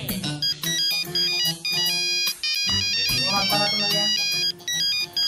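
A phone ringtone plays a bright, repeating melodic tune in short bursts with brief gaps, loud and close, in a village comedy scene.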